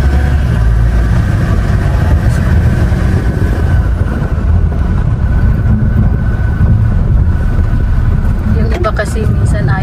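Road traffic in a busy street near a park, a constant loud low rumble of car and heavy engines idling and moving, with a person talking over the noise.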